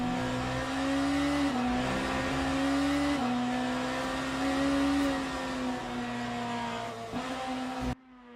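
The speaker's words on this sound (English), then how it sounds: "the sound of the engine wasn't right" A steady race car engine in a racing video game at Imola drones at high revs, its pitch rising and dipping slightly, then cuts off abruptly near the end.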